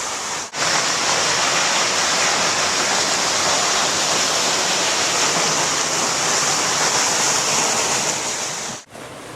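Falling Spring waterfall pours down in a loud, dense, unbroken rush of water heard up close, steady throughout with no talking.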